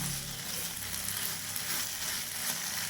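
Spiny gourd (kakrol) coated in spice paste frying in a pan, giving a steady, moderately loud sizzle throughout with no talking.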